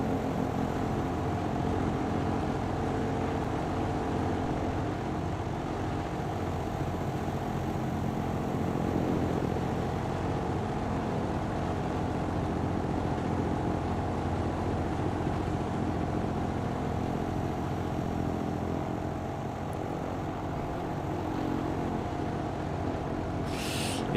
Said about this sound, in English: you hear the change in pitch of the props because you're moving behind